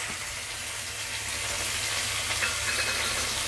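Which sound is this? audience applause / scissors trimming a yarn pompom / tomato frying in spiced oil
tomato frying in spiced oil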